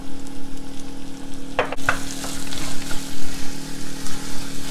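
Onions, garlic and curry leaves sauté in a pan with a dense, steady sizzle that crackles throughout, joined by a few sharp scraping knocks partway through.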